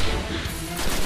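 Gunfire in the Destiny video game, a brief dense burst of shots that stays loud throughout, no talk.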